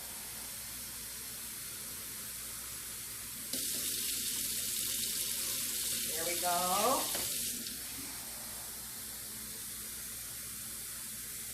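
Cold tap water pours into a cooking pot for about four seconds, a bright steady hissing stream with a rising filling tone, surrounded by quiet kitchen background and a brief spoken remark near the end.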